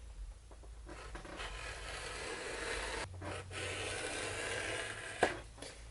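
Tool dragged along a leather belt to cut a small stitch-look groove, giving a faint, close scraping rasp in slow, even strokes with a brief sharper tap near the end.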